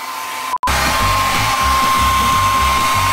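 A hair dryer blows loud and steady from close by, drying a full body face mask. A brief dropout cuts in early, then the airflow carries on with a low, uneven rumble beneath it.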